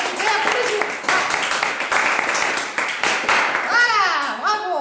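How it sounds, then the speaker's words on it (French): An audience claps for firefighters, a close, busy patter of hands in uneven bursts across the few seconds, with children's voices and a speaking voice rising over the clapping toward the end. "on applaudit aussi les pompiers"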